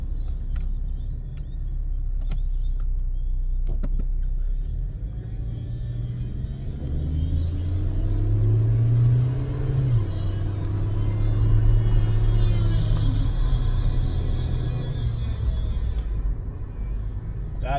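Turbocharged BMW engine revving hard with a hesitant flat spot, a loud, continuous low rumble that swells and sags unevenly as the revs climb, with rising whine partway through and no talk.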